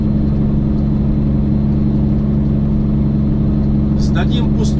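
A classic Peterbilt 389 truck engine drones loud and steady while driving toward a Seattle port terminal, a continuous low rumble filling the cab, with a brief higher noise near the end.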